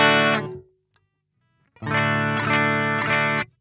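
Strandberg Boden Metal 8 NX eight-string guitar played through humbuckers in vintage mode: a short distorted chord rings and fades, then after a pause a loud, sustained, rhythmically strummed distorted passage continues before cutting off.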